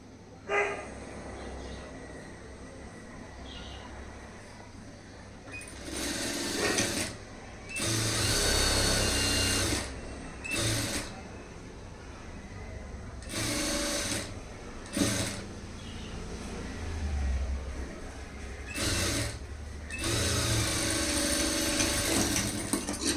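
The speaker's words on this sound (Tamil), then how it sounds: "இப்போ நம்ம அதிலே தையல் போட ஆரம்பிச்சிடலாம்" Sewing machine stitching a high-neck blouse, running in several loud bursts of whirring mechanical stitching separated by quieter pauses with faint handling sounds in between.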